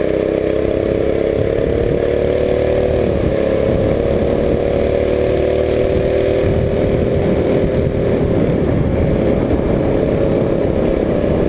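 Minibike engine running steadily close up, a loud continuous buzzing drone with a rough rattling edge and a slight shift in pitch partway through.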